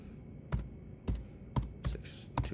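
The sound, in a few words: typing a phone number on a computer keyboard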